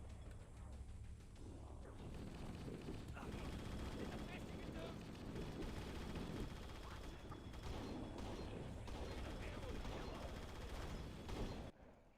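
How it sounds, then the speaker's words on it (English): Sustained rapid minigun fire from a Spartan in a Halo-style shooter, a dense continuous mechanical rattle over game noise, fairly faint and steady before cutting off near the end. "yeah, one Spartan with a minigun."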